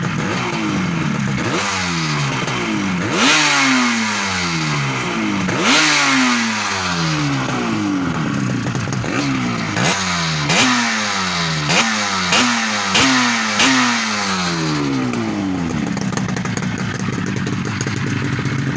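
A restored Yamaha LC two-stroke motorcycle engine runs and is revved repeatedly, each blip rising sharply then falling away, with quicker stabs of throttle later on before it settles back to idle, loud and close with no talk.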